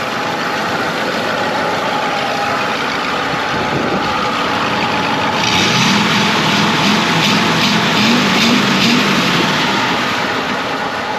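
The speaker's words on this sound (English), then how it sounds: "Engine's running good." A 1994 Ford F-150 pickup engine, run after sitting for years following flood damage, idles steadily, a loud continuous rumble that swells slightly and grows rougher partway through, with no talking.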